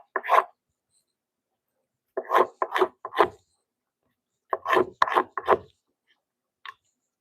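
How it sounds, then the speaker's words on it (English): Grain side of a roadkill hide being scraped in short bursts, a few quick rasping strokes grouped together with long silent pauses between them, close and fairly loud. "I'm going to scrape the leather side or the grain side too today."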